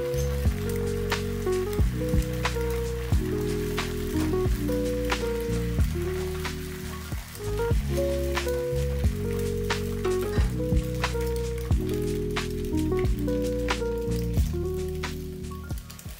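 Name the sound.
beaten egg frying in pan with paratha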